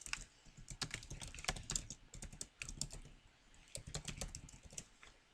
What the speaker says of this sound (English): All we have to do is to type in the include for the snapshot utility.